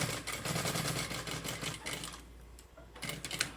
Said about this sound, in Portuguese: vou girar e vou finalizar a costura aqui